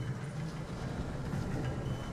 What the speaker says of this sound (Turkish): Şu tren var ya benim sinirimi bozdu bu arada takır takır takır takır takır takır takır sesi gelip duruyor